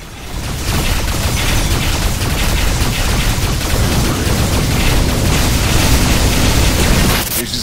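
A scatter turret firing in the space combat game Rebel Galaxy: a loud, unbroken barrage of rapid blasts and booms that fades away only at the very end.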